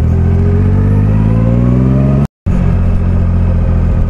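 A Triumph Rocket III motorcycle's big engine drones loudly and steadily with rising harmonic pitch, cutting out briefly for a moment before resuming its heavy rumble.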